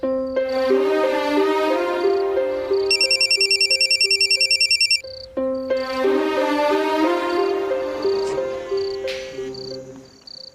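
A telephone rings with a repeated electronic trill, two long bursts separated by a short gap, loud and close over steady tonal background music.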